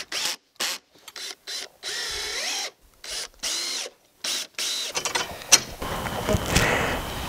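A power drill drives screws into cedar picket boards for a raised garden bed, sounding in a series of short whirring bursts separated by pauses, then fading into scraping and handling noise.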